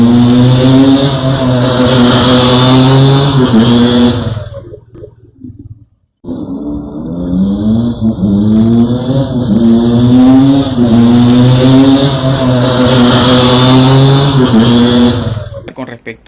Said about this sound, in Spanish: muchas motocicletas que andan con escapes, en la cual hacen un ruido muy fuerte